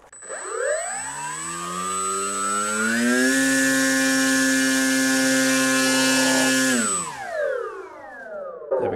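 An electric motor and propeller on a Zeta FX-79 flying wing, running on a 3S battery, spool up to a loud, steady high-pitched whine at full throttle, hold it for several seconds, then wind down.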